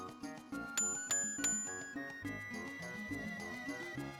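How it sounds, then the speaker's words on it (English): A hotel bell rings repeatedly in the Super Mario RPG video game. Bright, tinny dings sound several times in quick succession over a bouncy, rhythmic game music track, at a soft overall level. "You can ring the bell"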